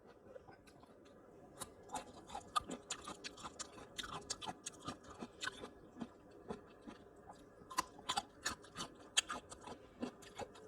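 Close-up chewing of cooked carrots and vegetables, with soft wet crunches and smacks in an irregular rhythm, quiet and intimate, without speech.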